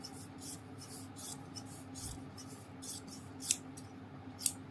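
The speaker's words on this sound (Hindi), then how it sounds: "इसको हम एक बराबर काट लेंगे आधे इंच के हिसाब से" Scissors snip along a fabric piping strip for a suit, trimming it to half-inch width in a series of faint, evenly spaced close cuts, with two sharper snips near the end.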